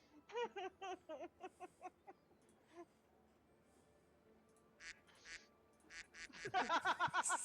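Several tabletop role-playing players quack like ducks in a fast run of short, voiced bursts, then trail off and break into a louder cluster of overlapping quacks near the end; human voices imitate the sound.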